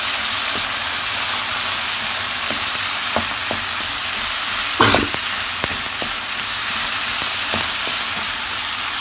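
Bolognese sauce for penne stirred in a pan: a dense, constant frying sizzle with occasional spoon clicks and one louder scrape midway, close and continuous.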